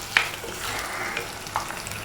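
Blended tomato added to onions and green chillies frying in a pan for a pomfret fish curry sizzles steadily, with a few sharp spatters and stirring clicks close by.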